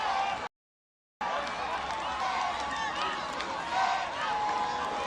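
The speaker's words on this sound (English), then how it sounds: "And the home crowd absolutely love that." A home crowd roars steadily at an athletics race at the African Games in Ghana, loud and continuous, broken by a brief gap of silence near the start.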